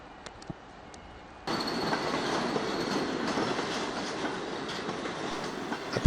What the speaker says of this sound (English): A pair of English electric Class 20s lead a short rake of empty car carriers through the station.